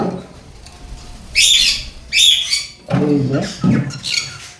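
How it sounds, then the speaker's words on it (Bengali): Several caged cockatiels give harsh, loud squawks in repeated short bursts, with a few fainter chirps and brief wing flutters in between. "এখানে আছে কিছু কোকাটেল কোকাটেল পাখিগুলো"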